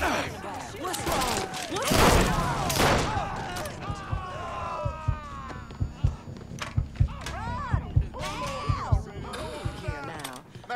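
Gunfire in the video game Mafia 3: scattered sharp shots and thuds ring out repeatedly, mostly under loud shouting voices and chaotic game noise, with a dense burst near the start.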